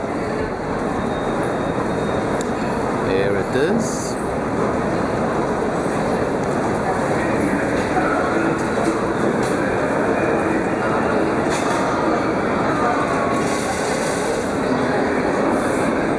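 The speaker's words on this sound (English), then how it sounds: "And the fast train goes from here," Renfe fast train at a Madrid station: a loud, continuous broadband rumble of rolling rail cars with a faint clickety-clack. Brief speech is heard over it.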